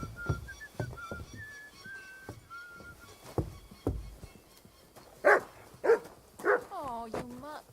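A dog in Kingdom Come: Deliverance II lets out three or four sharp, close barks in quick succession late in the scene, after stretches of someone talking and soft in-game ambience.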